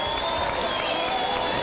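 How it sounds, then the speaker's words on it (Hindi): A studio audience at an Independence Day television special gives steady, continuous applause, a dense even wash of clapping from a crowd at fairly close range for a brief moment, with no talking. "बहुत सारी तालियां इनके लिए भी हो जाएं।"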